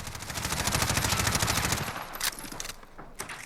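Rapid full-auto bursts from an MP5K submachine gun in Call of Duty Modern Warfare, a dense stream of loud shots for about two seconds, then a few shorter bursts and single reports with brief gaps.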